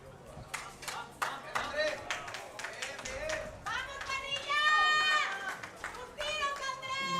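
A young fan cheers and squeals courtside at a professional women's racquetball match, high excited cries repeating in short bursts at moderate distance while an adult commentator talks over them.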